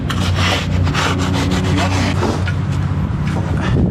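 Hand float rubbing on concrete, a steady loud scraping and grinding with repeated back-and-forth strokes, close up and continuous.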